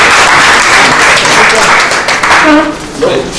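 Applause in an association's general assembly, a broad clatter of clapping from the attendees with voices mixed in, loud and close, tapering off toward the end.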